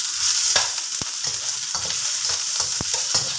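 Onion dropped into hot oil fries with a loud, busy sizzle, punctuated by several quick scrapes and taps of a spatula in the pan, close up and with no talk.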